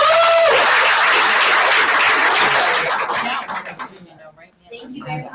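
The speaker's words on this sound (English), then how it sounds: "let's give him a big round of applause" Audience applause at a sales meeting, loud dense clapping filling the room for about three seconds before thinning into scattered claps and fading.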